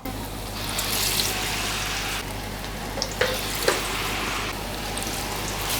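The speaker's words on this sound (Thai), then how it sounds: "ขั้นตอนต่อไปเราจะทำการทอดกันเลยนะครับ" Vegetarian spring rolls, taro or tofu sizzle and bubble steadily in hot oil over medium-low heat, a dense continuous crackle with a few louder pops and clinks near the middle.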